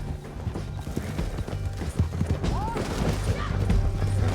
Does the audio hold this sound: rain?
no